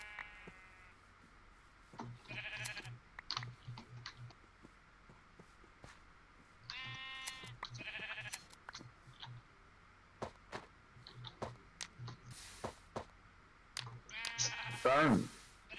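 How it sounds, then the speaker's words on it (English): Sheep bleat repeatedly in Minecraft, several short wavering cries spread out over soft rhythmic footsteps, with a final sharper burst near the end. "there's a sheep over here."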